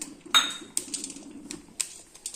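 Puffed grain is roasted in a pan, heard as sporadic metallic clinks and scrapes of stirring, with a few sharper knocks against the pan over a soft crackling background.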